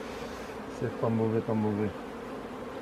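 Honeybees drone in a dense, steady hum at an open beehive during an inspection of brood frames. Someone speaks briefly in French over the continuous buzzing.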